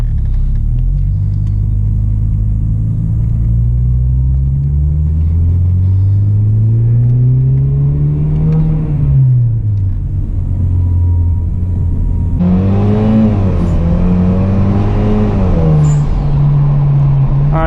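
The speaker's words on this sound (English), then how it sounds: "If you guys heard that blow-off valve sound, that is reason number one." A 2.0T turbocharged Hyundai Genesis Coupe is driven with a loud, steady engine drone that climbs and falls in pitch through the gears, and a brighter hissing whoosh of the turbo blow-off valve rises over it near the end.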